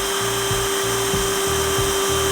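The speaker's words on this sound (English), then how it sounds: "I'm gonna mark a hole right here on the center line, and we're just gonna drill all the way through." A power drill bores a hole straight through a guitar body along its center line, a steady close whine with repeated short pulses and bursts as the bit cuts through the wood, with no talking.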